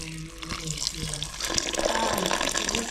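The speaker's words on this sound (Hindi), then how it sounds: "पानी डाल रहा हूँ" Water runs from a tap into a cooking pot for boiling cut chicken, a steady splashing rush that grows fuller as it goes, with faint clinks of the pot in a home kitchen.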